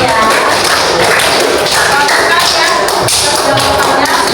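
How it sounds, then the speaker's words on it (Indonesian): A class applauding on the teacher's cue, a dense wash of many hands clapping together at loud, even volume for several seconds. "Kita kasih tepuk tangan semuanya ya."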